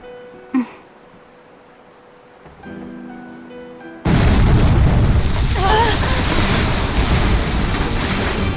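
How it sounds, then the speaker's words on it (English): Cannon fire from pirate ships at sea in the video game Tales of Berseria: after a quiet stretch with a brief pop and a low tone, a sudden loud booming blast opens into sustained roaring rumble. "Cannon fire astern!"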